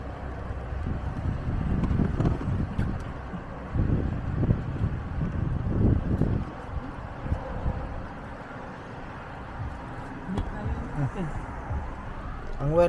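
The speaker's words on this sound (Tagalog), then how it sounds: "Sarap ng hangin dito" Wind gusts buffet the microphone outdoors during a road trip from Manila toward Batangas Port, producing rumbling, uneven low roars that swell and fade, with people chatting over it.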